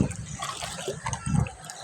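River water at Balanga Falls runs and trickles steadily at close range, a short continuous wash of flowing water with no voices over it.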